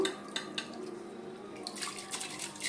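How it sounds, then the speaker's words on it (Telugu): Basmati rice is poured into water in a cooking pot for mutton dum biryani, giving light splashing, trickling and patter with a few metallic clinks against the pot, and the sound thickens toward the end. "ఇదిగోండి నీళ్ళల్లో బియ్యం వేసేసుకుందాము"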